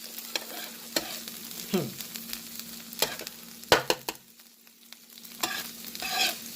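Fried rice with jerk chicken sizzles on an outdoor grill, a steady close frying hiss broken by scraping and stirring strokes and a few sharper clinks, with no talking.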